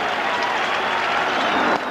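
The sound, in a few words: baseball stadium crowd cheering as the Mets win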